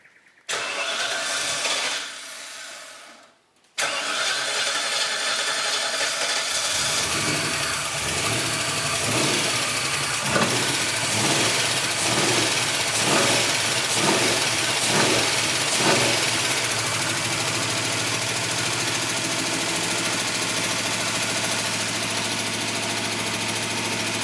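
A Holden Kingswood with a swapped-in 304 V8 cranks briefly, goes quiet, then cranks again with a rapid churning starter rhythm before catching and settling into a loud, steady, rumbling idle close by.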